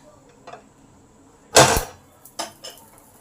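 A lid is lifted off a pan frying fish roe, giving one loud metallic clatter, followed by a couple of lighter clinks against the cookware.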